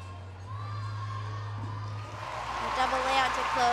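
Crowd cheering and whooping at a women's artistic gymnastics meet in Jesolo, swelling louder toward the end after a routine, over a steady hum of arena noise.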